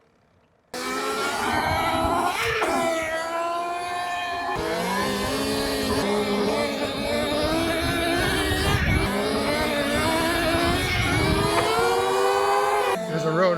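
A 2026 Talaria Komodo electric dirt bike ridden hard on a street, its motor whine climbing and falling through repeated bursts of acceleration, loud and close over wind noise, with a rider's voice mixed in.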